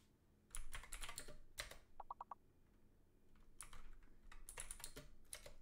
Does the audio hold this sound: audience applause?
no